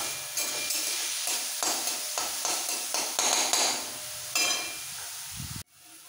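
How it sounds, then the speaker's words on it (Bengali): Masala momo filling ingredients are stirred and mixed in a pan with repeated scraping strokes over a constant frying sizzle, ending in an abrupt stop. "একসাথে সব মিশিয়ে ফেলবো।"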